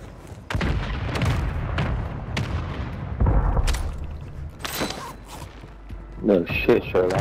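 Artillery strike explosions in Call of Duty land as a string of heavy booming bursts and rumbles, mixed in with game voices and radio chatter.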